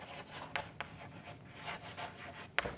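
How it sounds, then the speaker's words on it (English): The word stuck is written on a board in quiet scratchy strokes, with a few sharper taps as the marker touches down. "So I am going to write over here stuck."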